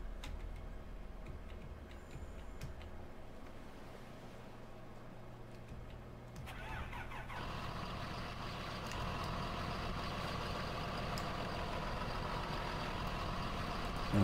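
Tractor engine in Farming Simulator 2013, idling as a steady low drone, then starting up about midway and rising to a louder, busier running roar with clicking and beeping accents and no talk.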